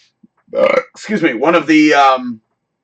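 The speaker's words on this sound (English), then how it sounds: "great burps, by the way" A long, loud, drawn-out burp rises and wavers in pitch over about two seconds, close up and alone.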